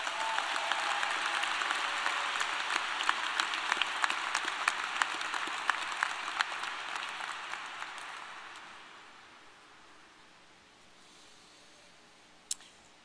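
A graduation ceremony audience gives its award recipients dense, sustained applause that fills the hall, then thins and fades away toward the end, with a single sharp knock just before it stops.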